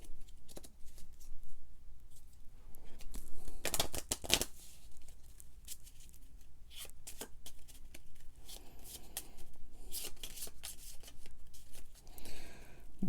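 A combat deck of cards for a board game gets shuffled in quiet, intermittent bursts of riffling and snapping, with a few louder flurries between softer handling noises.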